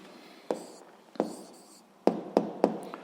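A pen writes an answer on paper in short scratchy strokes with sharp taps in between, about six distinct marks in three seconds, close and quiet.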